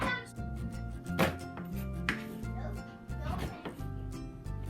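An onion being sliced with a knife on a cutting board in a home kitchen gives repeated crisp chopping knocks in an uneven rhythm, close and moderately quiet, with a dog barking faintly at times.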